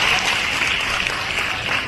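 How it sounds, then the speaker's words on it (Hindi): Audience applause at a public event in honour of Ahilyabai Holkar, a dense steady patter of many hands clapping close by for two seconds, with no talk over it. "जोरदार तालियों से स्वागत, वंदन, अभिनंदन"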